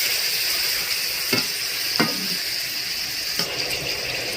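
Mutton is stirred and fried with onions in a pan for mutton kosha, a constant close sizzle with a few sharp scrapes of the spatula against the pan, and no voices.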